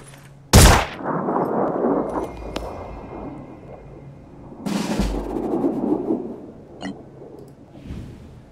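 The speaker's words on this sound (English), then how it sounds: "Opening fire" Gunfire in the tactical game Phoenix Point: a sharp, loud shot rings out early, followed by a second heavy report midway and scattered lighter shots, over a rumbling battlefield ambience with no talk.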